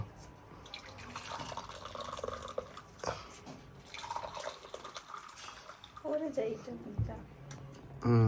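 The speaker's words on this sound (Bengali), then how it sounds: "এই যে ফার্স্ট ক্লাসের চা ঢালছে" A thin stream of tea trickles and splashes into a cup, with clinks and people talking nearby.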